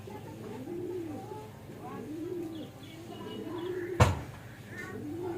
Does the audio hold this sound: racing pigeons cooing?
yes